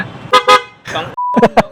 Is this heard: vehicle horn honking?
yes